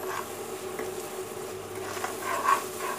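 Ground dal paste fries and gets stirred in a pan for pakora curry, giving a steady soft sizzle with scraping strokes of a spoon throughout, close and moderately loud, no voices.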